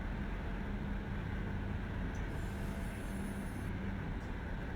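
A heavy 10,000-foot freight train on Cajon Pass in the simulator Run 8, rolling with a steady, low, continuous rumble that stays even and fairly quiet throughout, with no voices.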